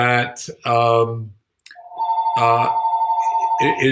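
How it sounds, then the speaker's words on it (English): A landline telephone rings in a room, a steady electronic warble sustained over several seconds after a stretch of someone talking, with a brief pause and click before it starts. "That's my phone. I'm sorry, it's a landline."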